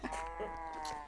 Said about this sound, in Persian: گوسفند ماده. گوسفند اوش